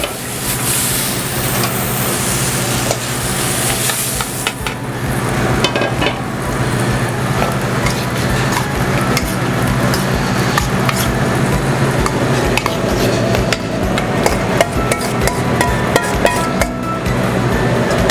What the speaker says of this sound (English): I'm just gonna mix the 3 ingredients together and serve